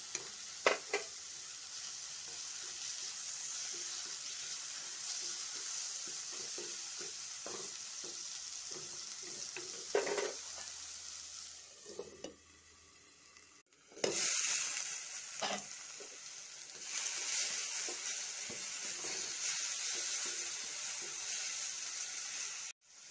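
Agathi (cheera) leaves sizzle and are stirred in a pan, with soft frying crackle and scattered scraping stirs. The sizzle drops briefly near the middle, then comes back louder.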